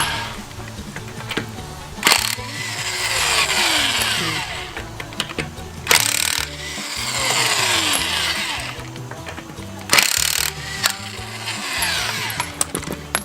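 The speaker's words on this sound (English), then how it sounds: "Just to remove the lug nut." A power tool, likely an impact wrench, removes lug nuts from a 2010 Lexus RX350 wheel, giving three loud, short rattling bursts spaced a few seconds apart over a steady background hum.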